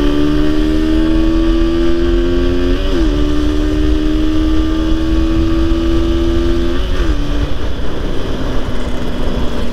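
A 2012–2013 Honda CBR150R petrol motorcycle engine runs steadily and loudly up close, a sustained tonal drone with two brief dips in pitch before settling slightly lower.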